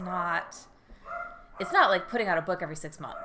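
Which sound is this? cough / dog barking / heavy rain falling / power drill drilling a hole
dog barking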